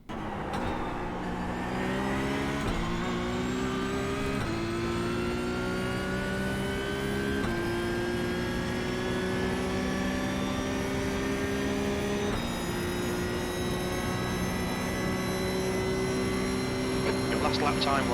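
Porsche 992 GT3 Cup race car lapping Imola in the iRacing sim, its engine revving high and continuously with rising pitch through each gear and quick shift drops, loud and alone throughout.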